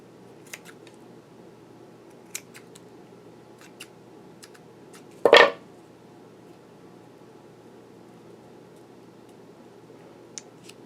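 A single close, short snip of scissors cutting material in a quiet room with faint ticks around it and no voices.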